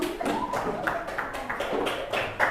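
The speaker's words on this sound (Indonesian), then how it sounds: "Beri tepuk tangan." Students clap in a classroom, a short run of sharp, fairly close taps and claps with a faint voice underneath.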